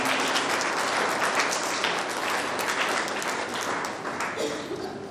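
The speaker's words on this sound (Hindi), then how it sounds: "तालियों के द्वारा हम धन्यवाद देंगे।" Sustained applause from a crowd at a Catholic church gathering for a Holy Mass and pastoral centre blessing, loud and steady throughout, tapering slightly toward the end, with faint voices underneath.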